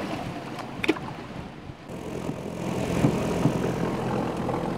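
A small propeller plane flies over Vieques, its steady engine drone swelling gradually over several seconds amid wind and open-air ambience, with a couple of faint thumps early on.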